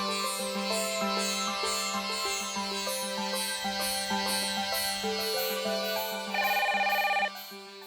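A telephone rings with a melodic electronic ringtone that repeats in a steady looping pattern and grows louder and brighter near the end before stopping, with no voices heard.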